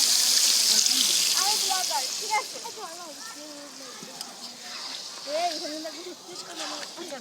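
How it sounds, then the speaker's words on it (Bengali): A little water is poured into a pot of chicken kosha, a brief hissing gush at the start that fades, with voices talking over it for the rest of the moment. "জলটা দিয়ে দেবো অল্প করে।"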